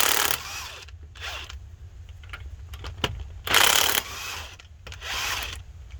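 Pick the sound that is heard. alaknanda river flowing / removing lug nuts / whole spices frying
removing lug nuts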